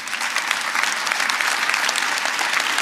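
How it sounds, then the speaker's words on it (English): Audience applause at the 2013 New York City State of the City address, a dense, steady wash of clapping from a large crowd that holds at an even level throughout. "Now, yes, you can applaud for that."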